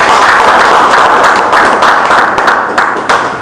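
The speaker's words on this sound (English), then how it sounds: "A very big round of applause, of course, for this powerful presentation" Audience applause following a presentation at a university research conference, a dense, steady wash of many hands clapping close and loud, tapering slightly toward the end.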